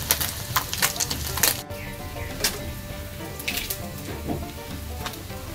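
Crisp, steady sizzle of crispy-fried snakeskin gourami (cá sặc đồng) crackling in hot oil, with dense popping bursts running throughout at close range, no voices.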